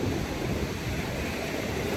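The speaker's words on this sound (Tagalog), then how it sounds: "So yun, sobrang lakas na alon" Strong ocean waves at La Union, a continuous loud roar of surf mixed with wind buffeting, steady and broad with no voices.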